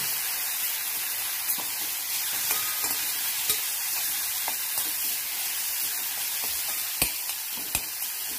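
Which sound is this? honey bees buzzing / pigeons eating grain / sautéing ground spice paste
sautéing ground spice paste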